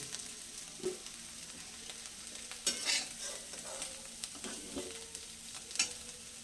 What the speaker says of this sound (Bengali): কপিগুলো ভাজা হয়ে গেছে এবার আমি এগুলোকে একটু অন্য পাত্রে উঠিয়ে নিচ্ছি